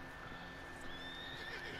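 A horse whinnies faintly in Red Dead Online, a thin drawn-out neigh with soft hoof clops. It sits low under quiet in-game ambience.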